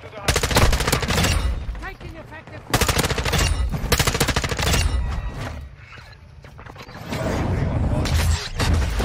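Rapid automatic gunfire in Call of Duty Modern Warfare 2 multiplayer, dense loud bursts with short pauses between them, mixed with game effects and voices.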